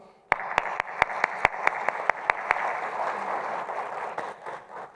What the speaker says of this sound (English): So if you can give her a warm round of applause.